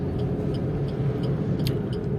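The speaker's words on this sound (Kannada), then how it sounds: "ಈಗ ನೋಡ್ರಿ ಸೆಕೆಂಡ್ ಗೇರ್ನಲ್ಲಿ ಹೋಗ್ತಿದೆ ಗಾಡಿ" A Maruti Alto K10 hatchback is driven in second gear, its engine a steady, close low rumble heard from inside the cabin, with a few faint ticks and no talk.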